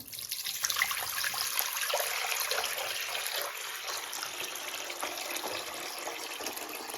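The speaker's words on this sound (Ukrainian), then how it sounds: "Беремо каструлю, наливаємо в каструлю воду." Water pours into a cooking pot being filled for boiling varenyky, a steady, close rushing splash that runs unbroken for the whole stretch with no voices over it.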